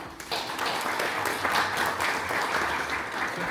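An audience applauds a presenter at an aquarium show on building a forest diorama, a full, even roar of many people clapping that holds steady throughout.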